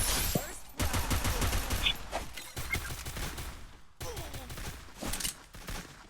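Gunfire in a shooting video game played on a phone, rapid bursts of shots in close succession with short pauses, loud and dense, with faint voices underneath.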